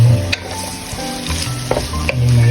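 Minced chicken sautéing in a pan for chicken sotanghon soup, a steady sizzle with scraping stir strokes and occasional clinks of the utensil against the pan, close and continuous with no talking.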